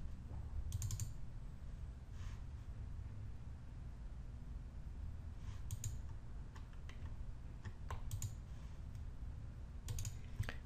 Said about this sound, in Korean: 한번더 입력하고 엔터를 치면 진행이 계속 되죠.